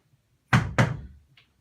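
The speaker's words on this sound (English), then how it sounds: "Arise, one knocks, good Romeo, hide thyself!" Two heavy knocks on a wooden door in quick succession, close and loud, each followed by a short resonant decay, then a faint brief tap.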